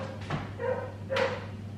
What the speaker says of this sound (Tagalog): Tumatahol yung aso.